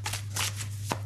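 Tarot cards being shuffled by hand: soft, rapid papery riffles and flicks in several short bursts over a low steady hum, fairly quiet and close.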